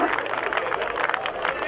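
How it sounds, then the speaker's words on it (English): Spectators at a British HillClimb Championship round at Loton Park break into applause and cheering close behind, a steady crackling roar of clapping and crowd noise with commentary talking over it. "Storms of applause and cheering from just behind us here."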